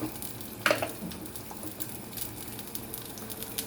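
Peeled field beans sizzle steadily as they fry in a pan. A constant close hiss of frying carries throughout, and one sharp clink of a utensil comes early on. No one speaks.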